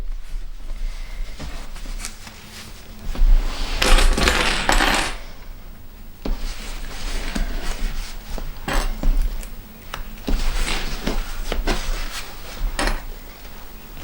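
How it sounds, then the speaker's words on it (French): Sewing clips snapped one after another along the edge of fabric while assembling a transparent vanity bag, giving a close run of sharp plastic clicks and light clatter that continues steadily with a few louder bursts. "On met des pinces jusqu'au bout."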